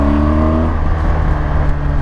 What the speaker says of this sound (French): Et le pot d'origine, il pétarade même.